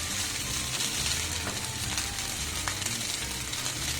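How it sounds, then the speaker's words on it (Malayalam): Rice for Malaysian nasi goreng fries in a hot pan with a dense, even sizzle and crackle that holds steady throughout, with no talking. "നമ്മുടെ റൈസ് കണ്ട ശരിക്ക് അത് ഫ്രൈ ആവുന്നതിൻ്റെ ഒരു ശബ്ദം കേൾക്കുന്നുണ്ട്"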